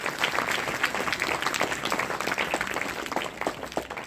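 An audience at a village gathering applauds the daughters, dense continuous clapping from many hands filling the whole stretch at steady loudness.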